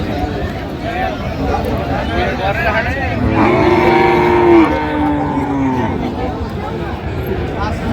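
A cow lets out one long moo amid the busy chatter of a crowd and passing traffic at a cattle market in Cox's Bazar.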